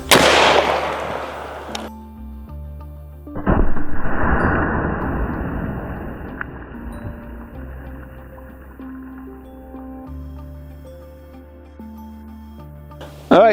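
An old Civil War era gun fires with a sharp, loud report near the start, then a second heavy blast follows a few seconds later and decays over a low, steady outdoor hum.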